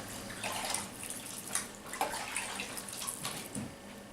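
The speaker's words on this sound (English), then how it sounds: "So we'll wash our hands again." Hands scrubbed under running water from a tap, a steady close splashing stream with irregular bursts and drips as the hands move through it.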